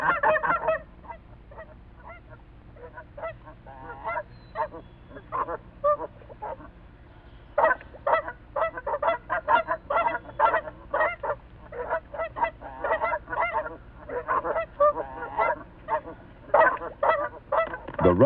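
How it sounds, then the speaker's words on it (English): A large farm goose honks loudly and repeatedly, guarding against a raccoon at night, with harsh close calls that come sparse at first and then in a rapid, agitated burst. "Goose, however, is a formidable guardian,"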